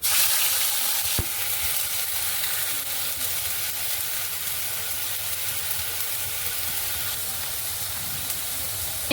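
Ground tomato added to hot oil tempered with nigella seeds and dried red chillies, giving a loud, continuous close sizzle and hiss with a brief clatter near the start and no speech.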